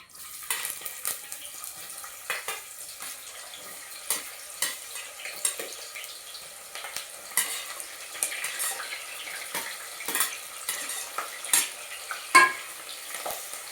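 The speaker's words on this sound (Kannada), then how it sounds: "ಈರುಳ್ಳಿನ ಎಣ್ಣೆಲಿ ಸ್ವಲ್ಪ ಜಾಸ್ತಿನೇ ಡ್ರೈ ಆಗೋವರೆಗೂ ಕಾಸ್ಕೋಬೇಕು" Onions and spices frying in oil for chicken biryani, a quiet continuous sizzle broken by irregular scraping stirs of a spoon in the pan, close, with no talk.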